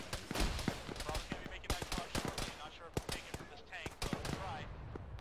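Arma combat gunfire: repeated sharp reports and machine-gun bursts at varying distances, with radio chatter and voices talking over the shooting.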